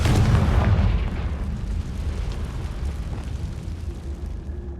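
Fire spell explosion cast in Hogwarts Legacy, a loud booming burst at the start that decays into a rumbling, crackling tail over several seconds.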